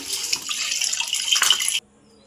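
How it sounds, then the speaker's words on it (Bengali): Pointed gourds (potol) being washed under running tap water in a sink, a steady close splashing rush lasting almost two seconds before cutting off abruptly. "এই পটলগুলোকে আমি ভালো করে জল দিয়ে ধুয়ে তারপরে কেটে নেব এই যে ধুয়ে নিচ্ছে"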